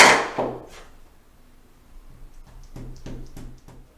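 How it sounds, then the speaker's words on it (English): A rubber stamp pressed onto card stock for a second bouquet image, making a few soft, quiet thumps and taps near and alone after a louder opening knock. "then stamp my second bouquet there"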